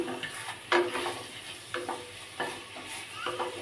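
Mutton pieces frying for Bengali aloo mutton curry, close and steady sizzle broken by several distinct stirring scrapes at uneven intervals, with no talk.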